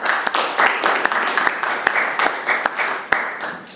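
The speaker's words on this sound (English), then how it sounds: "Let's give the panel a round of applause as well." An audience applauds the panel at an elevator pitch event, a full, steady round of clapping with a few loud individual claps standing out near the listener.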